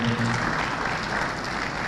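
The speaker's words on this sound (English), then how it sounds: "Can we give him a round of applause as he makes his way to the stage?" Steady applause from a conference audience at a venture capital programme event in Enugu greets a speaker walking to the stage, dense clapping held at an even level throughout with a faint voice underneath at the start.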